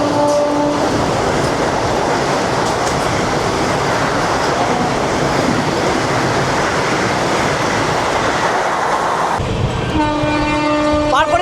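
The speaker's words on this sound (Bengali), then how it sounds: "পার হয়ে যাচ্ছে বন্দে ভারত" Vande Bharat express train rushes past at speed, a loud, steady roar of wheels and rushing air filling the whole stretch, with a horn-like tone sounding near the end.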